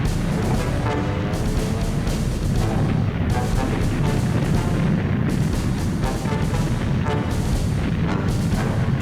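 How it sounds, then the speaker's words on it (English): Heavy naval bombardment at dawn, 16-inch battleship guns firing with rockets: loud, continuous deep booms and rumbling blasts overlapping one after another with no pause. "just before dawn, the naval bombardment commenced"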